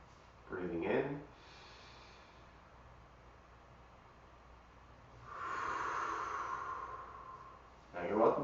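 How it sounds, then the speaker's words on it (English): During a yoga breathing exercise, a person takes a deep inhale through the nose, then a long, audible exhale, then begins another inhale. The breaths are close and soft, with some nasal snorting. "Breathing in."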